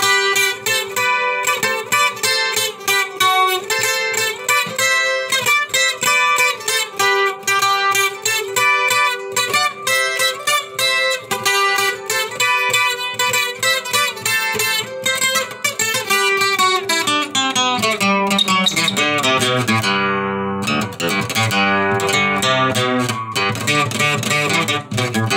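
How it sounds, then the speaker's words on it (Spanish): Requinto guitar played at normal speed, a rapid stream of bright plucked notes and runs with dense rhythmic picking, loud and close, continuous for the whole stretch with no voice. "Lo importante son las pisadas del requinto."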